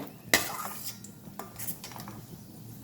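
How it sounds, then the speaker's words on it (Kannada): Metal utensil scraping and clinking against a frying pan while grated carrot and sugar are stirred, a sharp knock near the start followed by softer scrapes and stirring. "ಇದೇ ಬಾಣಲೆಗೆ ನಾನು ಸಕ್ಕರೆ ಮತ್ತು ತುರಿದಿರೋ ಕ್ಯಾರೆಟನ್ನು ಹಾಕ್ಕೊಂಡು ಹುರ್ಕೋತೇನೆ"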